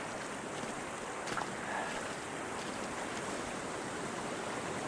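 Water rushing steadily through Montecito Creek after a 1 1/4 inch overnight rain, a continuous broadband wash of flow with no voices and no breaks.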